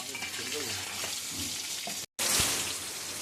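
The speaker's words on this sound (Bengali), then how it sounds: "ধনে পাতা, টমেটো, কাঁচা শুকনো লঙ্কা, জিরে আমি এইসব দিয়েছি, দিয়ে আমি এটাকে একটু ভাজা ভাজা করে নিলাম।" Tomato, coriander leaves, green and dried chillies and cumin frying in a pan for vegetarian aloo dum, a close, steady sizzle with faint voice traces, cut by a brief silent dropout before the frying resumes louder.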